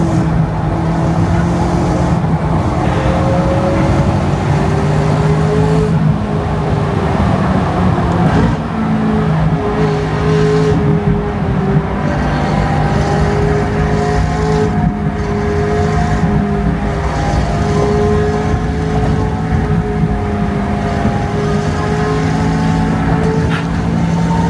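Car cruising on the 95 South highway, a loud, continuous cabin rumble of engine and road noise with gently rising and falling engine tones as it drives along, no one speaking.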